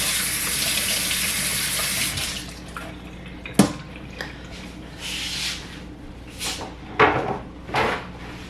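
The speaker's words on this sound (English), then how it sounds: "So, just washing my hands here, because my hands are super greasy." Tap water runs into a sink while hands are washed, a steady hiss for about two seconds, then quieter splashes and a few sharp clatters and knocks nearby.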